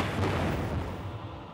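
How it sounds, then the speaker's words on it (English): A loud, low seismic air gun burst used in offshore oil and gas surveying, a deep rumbling boom that swells early and then rolls on in a sustained, heavy low-frequency wash without any voices. "Air guns used for offshore oil and gas exploration emit intense noise bursts that can cover thousands of square miles."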